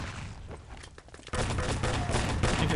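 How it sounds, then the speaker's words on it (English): Artillery fire in Wolfenstein: Enemy Territory during a 6on6 LAN tournament match, a dense rumbling barrage of shots that jumps louder midway and keeps pounding steadily to the end. "This artillery is holding them off."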